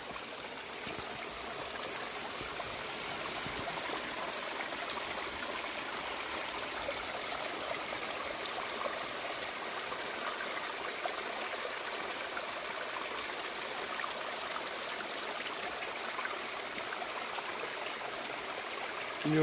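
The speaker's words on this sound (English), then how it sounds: "That water's coming out of the mountain." Water flowing out of a mountainside on a hiking trail, a steady continuous trickling stream close by with no talk, rushing evenly throughout.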